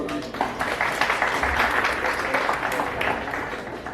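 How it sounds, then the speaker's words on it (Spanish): Audience applause at a medical conference presentation on non-pharmacological treatment, steady broadband clapping filling the whole moment with some voices mixed in. "La despedimos con un aplauso."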